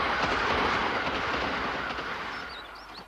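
An express train rushes past with a loud, broad roar and faint rhythmic clatter, slowly fading as it moves away, with a brief high squeal near the end.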